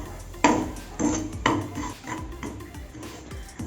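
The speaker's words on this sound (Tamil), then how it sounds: "ரவை இந்த நெய்யோடு கலந்து நல்லா வாசனை வர வரைக்கும் நல்லா வறுத்து எடுத்துக்கோங்க." A spoon scrapes and knocks against a pan as semolina (rava) is roasted in ghee, making a few sharp clinks followed by softer rhythmic stirring strokes.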